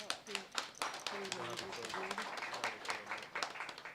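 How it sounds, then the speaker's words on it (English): Round of applause for the 2024 committee at the Prime Minister's Cup 2025 launch, a faint, scattered clapping from a gathered crowd with sharp individual claps standing out and a voice speaking over it in the middle. "I would like for you all to give them a massive round of applause"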